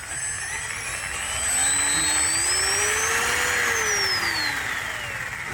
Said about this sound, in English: Listen to the sound of this motor.